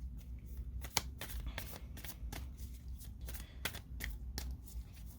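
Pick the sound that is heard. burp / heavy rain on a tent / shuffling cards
shuffling cards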